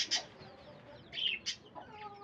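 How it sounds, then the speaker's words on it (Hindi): A hen in a backyard flock clucks in short, close bursts of squawky chatter, with a few quieter clucks between, and no voices over it. "मुर्गी भी बैठी हुई है वहाँ पे"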